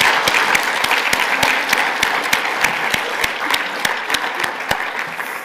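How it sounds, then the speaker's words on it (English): Applause for an organising team at a co-op congress morning session, a dense steady clapping from a seated audience with a few louder individual claps standing out, holding fairly even throughout. "I think they all deserve a great round of applause"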